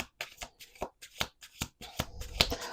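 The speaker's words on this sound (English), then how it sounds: "Let's do 2 more shuffles." A deck of playing cards being shuffled at a table, several quick riffling bursts in sequence with brief gaps between them, close and crisp.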